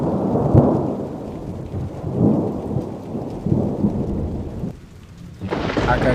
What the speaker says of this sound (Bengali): হালকা বৃষ্টি হচ্ছে।